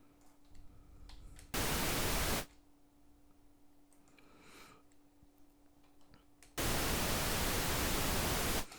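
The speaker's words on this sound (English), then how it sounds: "So we're going to get 30 seconds of pink noise." Pink noise generated in Cubase, heard as two loud bursts of steady broadband hiss, a short one and then a longer one, with quiet faint clicks between them.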